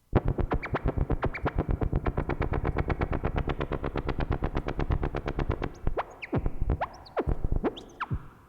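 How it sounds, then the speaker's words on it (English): Rapid repeated synth notes pulse steadily while an LFO sweeps the oscillator pitch up and down, then the pattern thins into sparser, warbling hits. "now I'm gonna start oscillating oscillator 1's pitch with an LFO"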